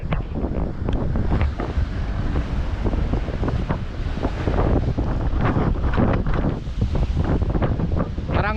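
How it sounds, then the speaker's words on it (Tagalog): Big typhoon waves crashing against a seawall with strong gusting wind buffeting the microphone, a continuous loud rumbling roar with repeated surging crashes. "Hampas ang alon dito sa ano."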